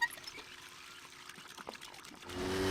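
Water splashing and trickling from a hand water pump outside a house in My Summer Car, a faint, thin pour that swells into a louder gushing stream in the final moment.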